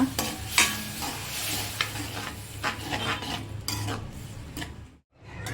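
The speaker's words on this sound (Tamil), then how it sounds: "தண்ணி ஊற்றிட்டு மிக்ஸ் பண்ணிக்கோங்க." A spoon stirs pav bhaji mixture with added water in a pan, producing a steady close scraping and a soft sizzle that runs almost continuously before cutting off briefly near the end.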